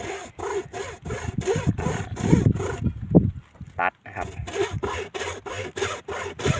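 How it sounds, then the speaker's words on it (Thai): Rhythmic rasping strokes of a hand saw cutting through a mango tree branch, steady back-and-forth with a brief pause midway, close up. "ใส่เลื่อยนะครับ ใส่เลื่อย"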